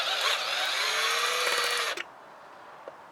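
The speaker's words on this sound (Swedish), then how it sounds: "så måste vi då borra lite större hål i den här plasten här." A power drill bores a larger hole in the plastic fuel filler door of a Volvo, whining loudly and steadily for about two seconds before stopping abruptly, followed by near silence and a faint click.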